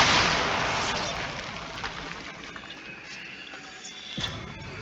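A Bombarda blasting spell in Hogwarts Legacy bursts loudly at the start and its rumbling blast decays over several seconds, followed by a smaller sharp crack near the end.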